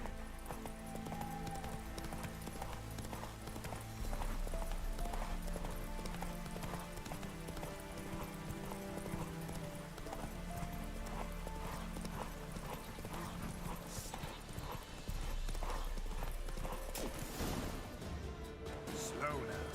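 A horse gallops in the video game Witcher 3, its rapid, steady clip-clop hoofbeats loud and close for the whole stretch, layered over a dense bed of game music and ambience with occasional sharp crashes near the end.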